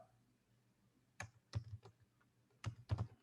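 Fingers type an SQL insert query on a computer keyboard: a few sparse, faint key clicks, some in quick pairs, in a quiet room.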